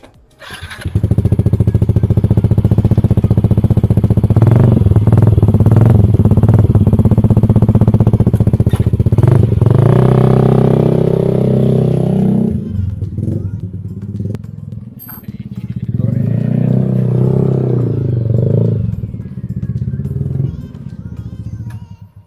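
A motorcycle engine fitted with a Black Devil aftermarket exhaust and fresh oil revs loudly and roughly up close for about twelve seconds, drops off, then rumbles again more quietly, with people talking over it.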